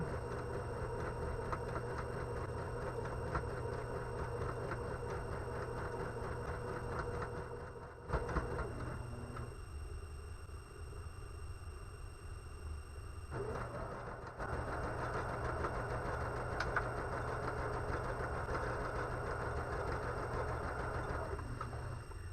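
Sewing machine stitching a quarter-inch seam for a windmill quilt block, a steady mechanical whir that runs throughout, pausing briefly mid-way before resuming at the same even pace.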